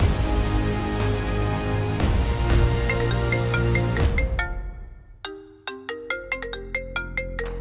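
A mobile phone ringtone plays loudly as a bright, steady melodic tune in a TV serial scene, then gives way to a plucked, repeating chime pattern, with no talking.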